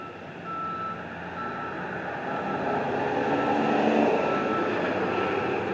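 A construction truck backing up on a building site, its reversing beeper sounding steadily under a constant, fairly faint rumble of engine and site noise.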